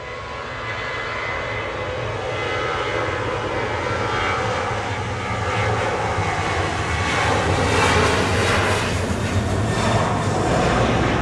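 A Jet2 airliner operated by ETF Airways roars at Manchester Airport, a loud, sustained jet engine rumble that swells gradually, steady and close, with no voices over it.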